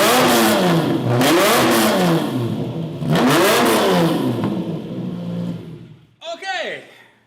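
The exhaust of a Lamborghini built for a Fast & Furious movie revs in loud, close swells that rise and fall two or three times, then a brief sharp blip after a short pause.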